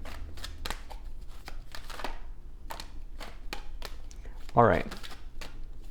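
Oracle cards shuffled in the hands give a rapid run of soft papery riffles and flicks through the clip, with one brief louder riffle near the end, while a voice speaks briefly over the rustle.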